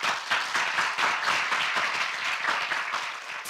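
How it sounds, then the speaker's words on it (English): An audience at a small business week celebration gives a round of applause, dense steady clapping from many hands that carries evenly through the whole stretch without a pause. "One more round of applause."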